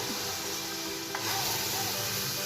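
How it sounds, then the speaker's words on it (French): Couscous sauce sizzles in a pan while being stirred, giving a steady, close frying hiss with faint scraping, and no one speaking. "Alors, on continue à remuer pour pas que ça colle."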